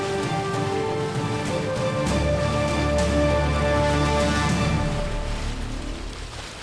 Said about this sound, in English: There's a pretty big downpour going on.